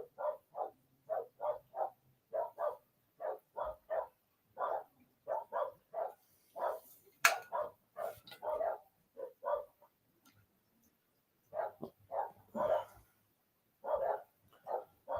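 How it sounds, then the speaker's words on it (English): Dogs barking repeatedly in steady, evenly spaced woofs that run on and off over fifteen seconds, faint and somewhat distant, with a short pause midway before the barking resumes. "Now there goes dogs again."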